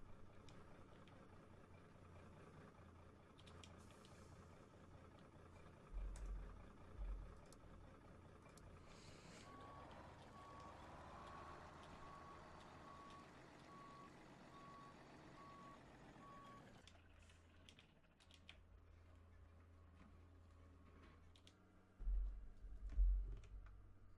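A truck reversing in the video game Farming Simulator 17 during early-morning logging, its backup alarm beeping steadily over a low idling engine for most of the stretch, with a few louder knocks along the way.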